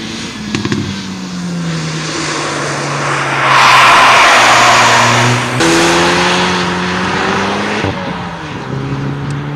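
Hyundai i30 N performance hatchback revving hard on a race track, a loud sustained engine roar with rising and falling revs, swelling as the car passes close by and shifting through gears.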